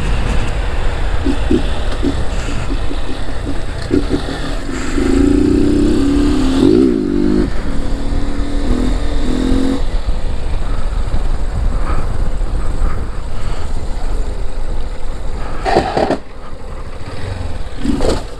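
A Honda Fan 160 motorcycle engine running steadily while ridden, a continuous loud broadband drone with shifting pitch and a brief rising whine in the middle.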